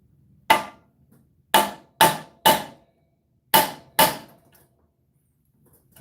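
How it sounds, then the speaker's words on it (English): An electrician hammer and beater stick strike a Harbor Freight portable band saw benchtop stand: six sharp metallic hits, close and loud, irregularly spaced with short ringing decays and silence between. "We're going to get our electrician hammer and our beater stick"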